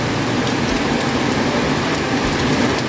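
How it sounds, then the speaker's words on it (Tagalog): Steady afternoon rain falls in a dense, unbroken hiss that stays loud and even throughout, with no voices over it. "Yan po ay umuulan na."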